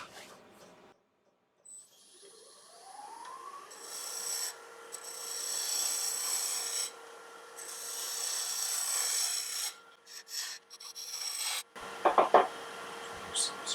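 On a wood lathe, a gouge scrapes and rasps against a spinning wooden Easter egg in bursts, with a rising tone as the spindle spins up and short pauses between cuts.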